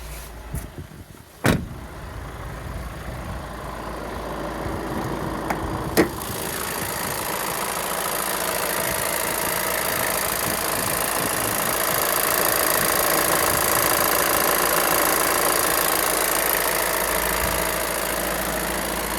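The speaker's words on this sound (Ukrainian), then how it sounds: "Послухаємо, як працює двигун." A 2019 Volkswagen T6 van engine idles steadily with a low, even hum, after a couple of sharp clicks and a door-like thud near the start.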